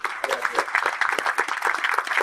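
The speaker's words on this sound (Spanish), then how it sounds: "Un fuerte aplauso." A crowd claps steadily, a dense, even burst of applause with no voices rising above it.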